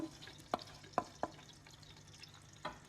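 Spices, black pepper, cardamom, salt and chicken broth substitute being stirred together in a pot for rice, with a few distinct scraping knocks of the spoon against the pot over a low background, no talking.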